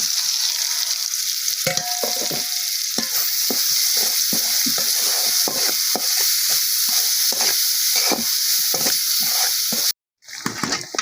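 Turmeric, chilli powder, salt, cumin powder and garlic are sautéed in oil for a fish curry. The sizzle is loud and continuous, with rhythmic spoon scrapes against the pan, and a brief near-silence comes near the end.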